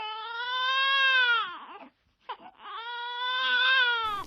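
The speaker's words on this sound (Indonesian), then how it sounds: "Terdengar suara bayi menangis dari luar tenda." An eerie wailing cry, like a baby sobbing, used as a sound effect in a horror story set on Mount Slamet in Central Java: two long drawn-out wails separated by a brief pause, loud and close.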